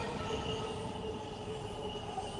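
Interior of a moving subway car with flowers on its walls: a steady, loud rumble of rolling wheels and rail noise with a sustained metallic squeal running throughout, no voices.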